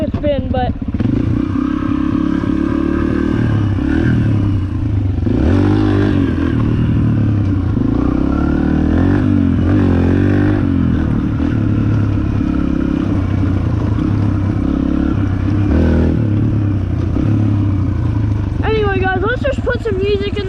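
A dirt bike being ridden and revved while gardening, its engine rising and falling loudly with clattering and scraping throughout, as a person talks over the riding.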